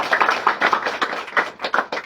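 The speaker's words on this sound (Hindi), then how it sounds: "जोरदार तालियां" A small audience at a party membership-drive gathering claps in short, uneven bursts. The applause is fairly soft and sounds close, and no one speaks.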